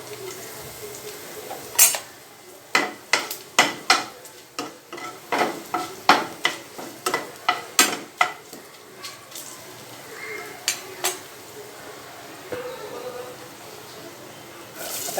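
Mustard seeds and asafoetida powder sizzle in hot oil for a Malvani-style tempering, a faint steady frying hiss beneath a string of close, sharp clinks and scrapes of a spoon against the pan, with no one talking.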